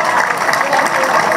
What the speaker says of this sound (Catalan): un fort aplaudiment per la principal del Clímax